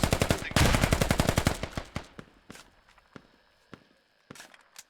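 Rapid automatic gunfire in a video game skirmish, a dense burst of shots that thins into scattered single cracks and footsteps, loud and close with no talk.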